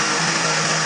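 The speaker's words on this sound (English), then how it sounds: "I went ahead to set my blender to blend the pepper." A blender whirs steadily as it purees peppers with water, a loud continuous motor whine filling the whole second with no pauses or voices.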